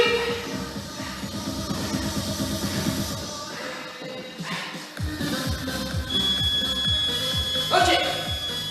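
A high electronic workout-timer beep from a home circuit-training session rings out over a busy rhythmic backing track, holding steady for a couple of seconds near the end.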